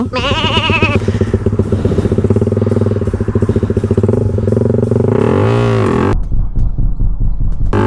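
A motorcycle fitted with a loud aftermarket exhaust pipe is ridden close by, its engine throbbing in a rapid pulsing rhythm and revving up and down with a rising and falling pitch before it cuts to quieter idle.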